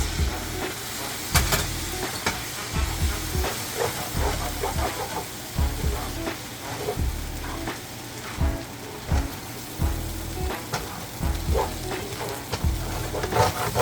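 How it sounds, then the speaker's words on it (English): A ramen stir-fry in a pan sizzles with a dense, rain-like crackle and hiss while broth is poured in to deglaze, with repeated stirring scrapes and clunks throughout, close up. "I'm gonna do a little bit more broth to deglaze."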